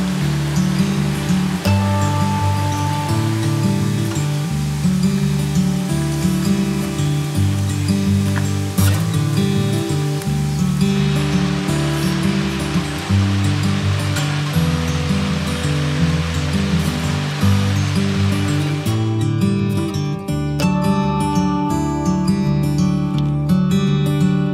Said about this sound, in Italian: Il piacevole rumore dell'acqua che ci sta accompagnando in questo percorso